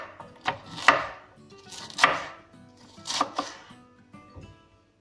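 A knife chops vegetables on a board for lentil soup, four clustered bursts of quick thudding cuts about a second apart, close and clear with no talk.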